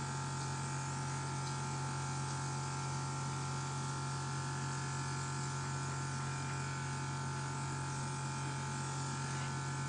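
Airbrush gun spraying foundation makeup, a continuous close hiss over a steady motor hum, unchanging throughout.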